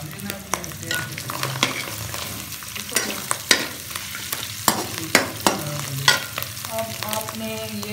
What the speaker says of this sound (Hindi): ये हमने चिकन डाल दिए इसमें, के साथ हमने तो आपने हल्का हल्का हला लेना है